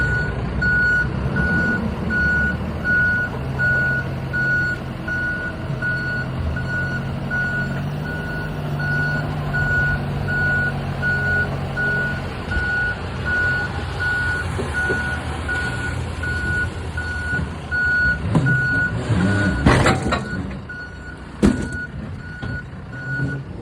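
A truck backs up with steady, loud reversing beeps repeating over a low diesel engine idle, with clunks and brief louder knocks near the end; no one speaks.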